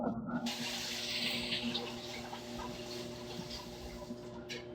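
Steady water running from a tap as glasses are washed, a continuous hiss and splash that stays fairly even and moderately close, with no talk over it.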